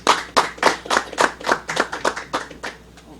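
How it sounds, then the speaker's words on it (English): An audience at a Detroit temple meeting claps for a minister brought to the podium, about a dozen loud, distinct rhythmic claps near the mic that fade toward the end. "Let's give Brother Minister another round of applause"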